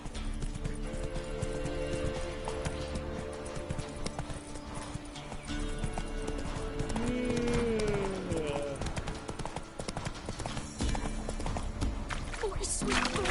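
Roach, the horse in The Witcher 3 video game, gallops with a continuous rapid clip-clop of hooves under game music and ambience, with voices talking over it and a brief whinny partway through.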